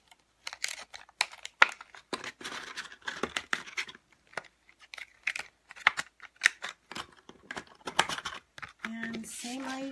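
Paper is cut and creased by hand: scattered sharp crinkles, taps and rustles come in irregular bursts, close by, ending in a longer sliding scrape.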